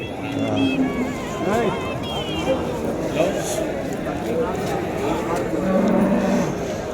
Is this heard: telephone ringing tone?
no